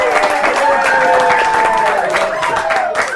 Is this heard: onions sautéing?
no